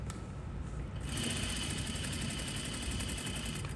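A sewing machine stitches boning into a garment, its rapid, steady motor whir and needle clatter starting after a moment and continuing close and even.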